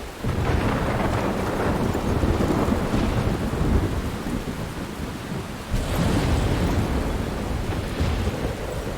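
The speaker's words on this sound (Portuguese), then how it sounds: "Tempestade." A video-game thunderstorm from Life is Strange rolls on loud and unbroken, deep rumbling thunder over heavy rain, swelling again midway through.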